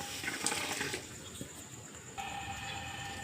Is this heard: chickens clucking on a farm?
no